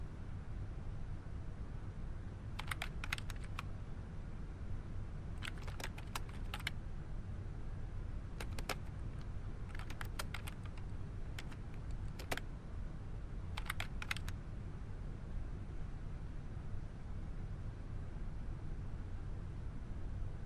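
Quiet typing on a computer keyboard comes in short scattered bursts of key clicks over a steady low background hum, with no talk.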